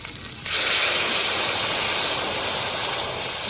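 Water poured into a hot pan of boal fish curry in a village kitchen sets off a sudden loud, sustained steam hiss that starts abruptly and continues steadily for several seconds.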